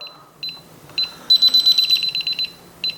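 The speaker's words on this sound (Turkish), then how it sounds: "Bize sistem çıkış süresini sayıyor." A DSC alarm system panel sounds its exit delay countdown, a series of short, sharp high-pitched beeps in quick bursts, fairly close, with no talking.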